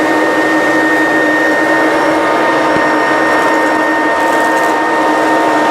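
A vacuum cleaner fitted with a hard floor tool sucks up debris, including a straw, along the edge of a floor, giving a steady, loud whine and roar that runs unbroken throughout.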